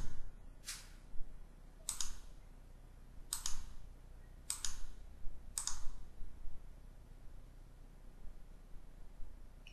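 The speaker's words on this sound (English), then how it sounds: "So we just type in the password again." Five sharp, separate key clicks on a computer keyboard while a password is entered, spaced about a second apart against a faint, quiet room hiss.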